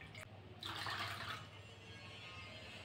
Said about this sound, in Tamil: கொஞ்சமாக தண்ணி சேர்த்து அலசி ஊற்றிடலாம்.